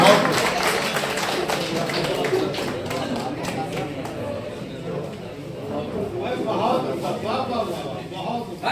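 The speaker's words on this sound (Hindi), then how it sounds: "बहुत सारा तालियां" Audience at a mushaira poetry gathering claps in a dense, sustained patter that fades slightly midway and swells again, with voices mixed in.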